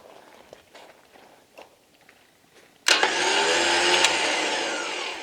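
A Badlands Apex winch mounted on a Rugged Ridge bumper on a JK Wrangler motor runs loudly and steadily, starting abruptly after a few quiet seconds of faint handling noises and whining on without voices.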